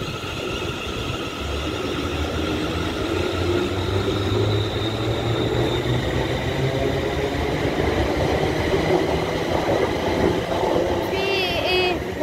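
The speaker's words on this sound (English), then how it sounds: "the train approaching is a 380 ScotRail service to Glasgow Central" A ScotRail Class 380 train pulls into Paisley Gilmour Street station, with a steady, loud rumble and hum of the approaching train, some rail noise, and a faint squeal near the end.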